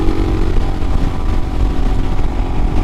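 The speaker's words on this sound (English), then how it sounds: "I can roll on the throttle and I get engine noises and acceleration" A 2022 Royal Enfield Himalayan with a carburetor conversion pulls hard on a throttle roll-on at highway speed, its loud, close engine roaring continuously with a rough pulsing drone and wind rush.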